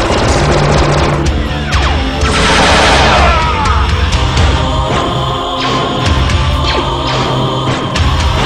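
Rapid bursts of gunfire and machine-gun fusillades crackle through a Star Wars battle video game, with booms and crashes layered over dense, continuous combat noise.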